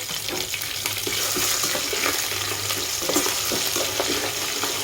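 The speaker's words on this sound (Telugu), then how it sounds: "అల్లం వెల్లుల్లి పేస్ట్ చేసుకుంటే కొంచెము అడిగట్టినట్టు మారిపోతుందండి మనము కొంచెం ఫ్రై చేసేసుకోవాలి" Onion and ginger garlic paste frying in a pan for tomato rice make a steady, fairly loud sizzle with frequent stirring scrapes and no talking.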